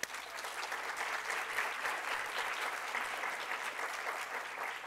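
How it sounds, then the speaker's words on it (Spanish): Conference audience at an education technology event gives a speaker a strong round of applause, a dense, even wash of many hands clapping that holds steady at moderate loudness throughout, with no speech over it. "Démosle un fuerte aplauso"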